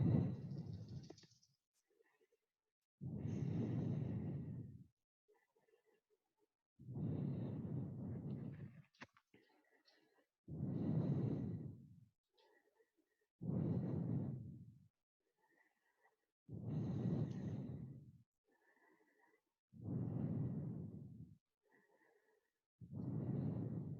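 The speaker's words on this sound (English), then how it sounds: "Breathing here, about 8 breaths." Slow, deep yoga breathing held in shoulder stand, about eight long, even breath sounds spaced a few seconds apart with near silence between them, close and soft, no talking.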